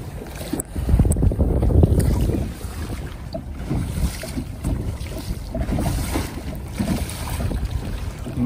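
Water sloshing and splashing against the hull of a Hobie pedal fishing kayak, with gusts of wind buffeting the microphone throughout.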